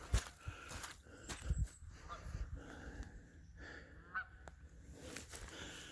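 Geese honk repeatedly at a moderate distance near a lake, loud irregular calls rising over an outdoor background.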